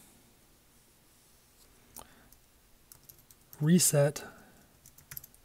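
Soft clicking keystrokes on a computer keyboard while entering a terminal command on a Mac, faint and scattered, with a brief spoken word in the middle.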